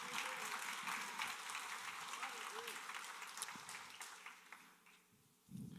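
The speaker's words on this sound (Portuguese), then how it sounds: "aplauda!" A church congregation applauds at a sermon, the clapping steady and moderately distant, with faint talk and organ-like tones mixed underneath before it dies down and a new burst begins.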